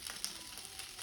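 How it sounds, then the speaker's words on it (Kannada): Fish frying on a tawa outdoors, a steady faint crackling sizzle with soft pops running throughout, no voices. "Fish tawa fry."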